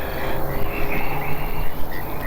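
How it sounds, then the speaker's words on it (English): Frogs croaking around a shaded bass pond: a dense, continuous chorus of warbling croaks and trills, fairly loud and close, with no voices over it. "You can hear the frogs in the background."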